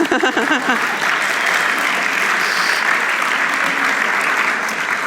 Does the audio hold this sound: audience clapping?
yes